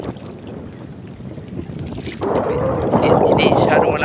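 Strong wind buffets the microphone in a steady roar that grows louder partway through, with faint voices underneath, out on open water during a hand-line fishing trip.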